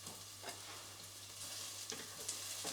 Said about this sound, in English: We're going to cook the spring onion just for a couple of minutes quickly,